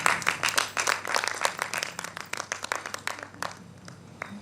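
Audience applause at a book release ceremony: a dense, steady burst of many hands clapping together, fairly close and loud, thinning slightly toward the end.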